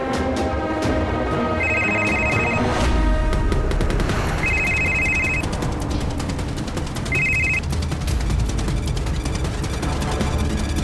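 A mobile phone rings after a call is placed in a crime drama scene: three repeated electronic ringtone bursts come through a dense, loud dramatic music score with heavy percussive hits.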